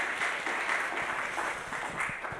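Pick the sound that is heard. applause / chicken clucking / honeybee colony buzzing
applause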